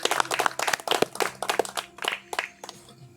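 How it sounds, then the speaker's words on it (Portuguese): A small church congregation at a service in Povoado Mata Fome claps briefly, with irregular, fairly sparse hand claps that fade out after about three seconds. "Dê uma linda salva de palmas para Jesus"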